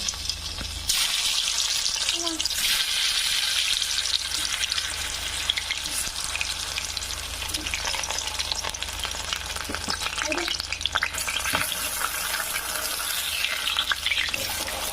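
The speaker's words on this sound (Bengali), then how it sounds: "তাতে মাশরুমগুলো ভালোভাবে ভেজে নিব।" Mushrooms fry in hot mustard oil in a wok, a steady close sizzle with occasional stirring scrapes and clatters running throughout, no voices.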